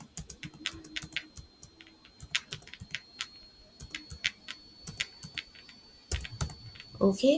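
Card details being typed on a computer keyboard, a quick irregular run of close, crisp key clicks with short pauses between bursts, while a voice speaks briefly over it.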